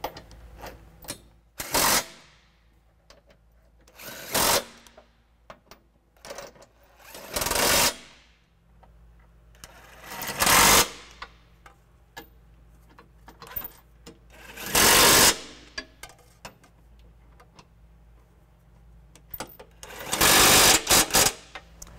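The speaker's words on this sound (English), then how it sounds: "now I'm going to go ahead and take our impact again in a 19mm socket this time and just snug everything down before I torque it." An impact wrench with a 19mm socket snugging down trailer hitch bolts on a 2010 Jeep Liberty, heard as six loud, separate rattling bursts with quiet gaps between them.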